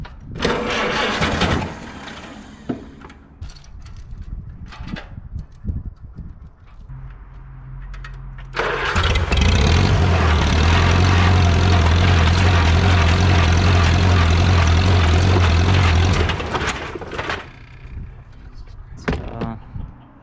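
An engine strains to pull a Farmall B tractor with a stuck clutch, using a strap chained to the drawbar and wrapped around a tree. After scattered knocks and rustles, a loud, steady engine drone surges in for several seconds, then fades.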